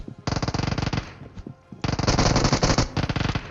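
Automatic gunfire from the mobile battle royale game BGMI fires in two loud, close, rapid bursts, a short one followed by a longer sustained volley after a brief pause.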